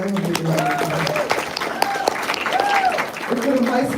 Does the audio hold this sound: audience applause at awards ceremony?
yes